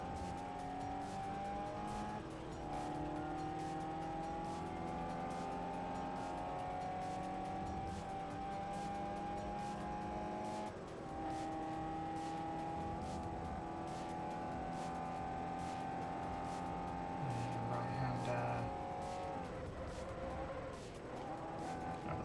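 Race cars in Forza Motorsport 4 droning steadily through a race, engine tones rising and falling as they brake and accelerate, with tire noise and occasional shifts, continuous and fairly loud.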